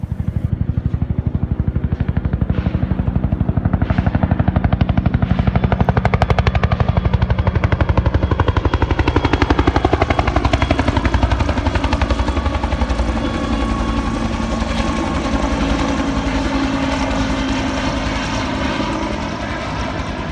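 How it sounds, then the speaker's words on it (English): A minigun fires at the Knob Creek machine gun shoot, a loud, continuous high-rate roar that holds steady for most of the stretch before easing slightly toward the end. "They also had the very famous minigun."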